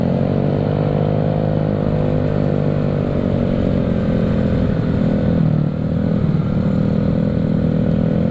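A motorcycle engine revs steadily and loudly up close, its throttle rising and falling with a rough, clattering mid-range growl throughout.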